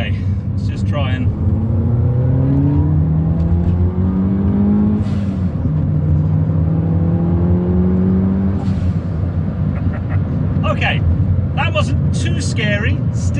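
A turbocharged 400bhp R56 Mini revving and accelerating in rising sweeps, its engine note climbing through the gears loud and close inside the car, with turbo whooshes and someone talking over it.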